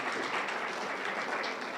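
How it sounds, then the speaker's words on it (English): Crowd applause for a cheer spirit team at a basketball press event, a brief burst of dense, steady clapping from many hands. "Yeah, they need some applause"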